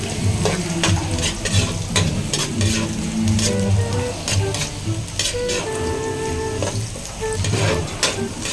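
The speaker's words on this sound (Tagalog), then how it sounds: "Ilagay na rin po natin ang bawang." Garlic sizzles in a hot pan with ginger while it is stirred, a close, continuous crackling fry broken by scraping stirs, cooked as part of a pork innards kilawin dish.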